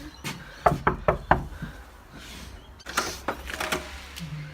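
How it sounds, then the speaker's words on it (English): Knuckles rapping on a house door, a quick burst of five sharp knocks, then after a pause a second looser run of knocks, close and clear with no talking. "let's just knock on the door"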